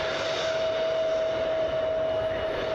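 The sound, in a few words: airliner flying in at Cleveland Hopkins airport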